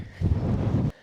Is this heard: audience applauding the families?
no